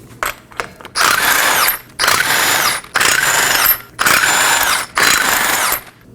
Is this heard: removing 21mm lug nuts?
yes